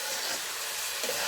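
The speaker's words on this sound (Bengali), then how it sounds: "মা কি সুন্দরভাবে নাড়াচাড়া দিতেছে, নিচে ধরতেছে না" Chepa shutki, Bangladeshi dried fish, being stirred as it fries in a pan in a village kitchen, giving a steady close sizzle and hiss with a brief scraping swell near the end.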